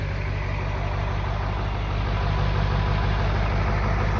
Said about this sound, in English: You hear that turbo?